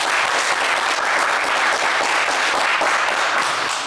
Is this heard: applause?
yes